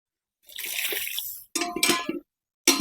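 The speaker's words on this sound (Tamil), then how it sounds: "இந்த பருப்பு தண்ணியை ஊற்ற போகிறோம்" Lentil cooking water pours into a pot of sambar in two or three short bursts, a sloshing, splashing stream with brief pauses between pours.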